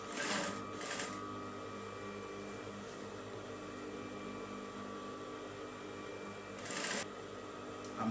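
Sewing machine stitching along a straight skirt's waistline, a soft continuous rattling hum throughout with brief sharper clicks near the start and again near the end.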